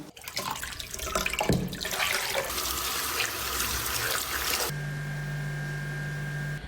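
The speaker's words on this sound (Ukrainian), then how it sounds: "Давайте під проточною водою змиємо миючий засіб" Tap water runs steadily into a sink while detergent is rinsed out of oil-stained kitchen towels, a continuous close splashing rush that later gives way to a steadier flow with a low electrical hum beneath it.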